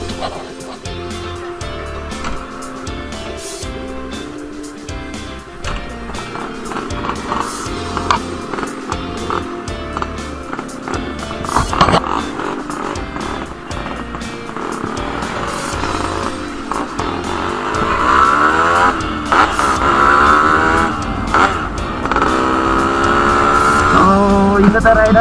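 A Yamaha RX135 five-speed motorcycle being ridden, its two-stroke engine buzzing loud and steady throughout with rising revs and gear changes toward the end.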